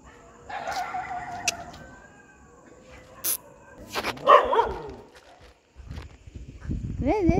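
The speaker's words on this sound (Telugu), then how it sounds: "వేరే వీధి కుక్క." A street dog barks at night on a residential lane, a few sharp barks near and fairly loud, mixed with other animal calls and people talking in the background.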